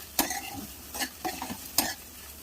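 Turmeric and chili powder are stirred into an ivy gourd curry in a hot pan, with several distinct scraping strokes over a soft continuous sizzle, close and fairly loud.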